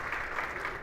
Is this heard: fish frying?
no